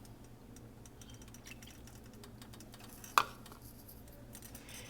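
Macaroni and cheese with seasonings and milk is stirred in a pot, giving soft, quiet scraping and ticking with one sharp clink of the utensil against the metal rim.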